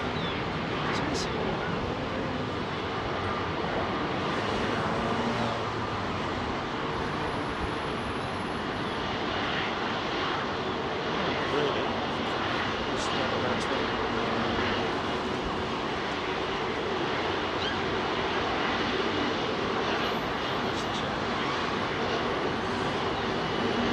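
Airplane at London Heathrow Airport runway 27R, a steady loud engine roar that holds throughout from up close, with faint voices in the background.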